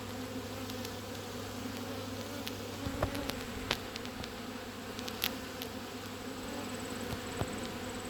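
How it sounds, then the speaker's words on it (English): Honey bees buzzing steadily around an open hive during an autumn inspection, a dense continuous drone with occasional louder individual bees passing close by. "I prefer to work towards happy bees, healthy bees"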